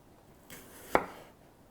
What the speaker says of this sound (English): you want to cut the slices as thin as you can get them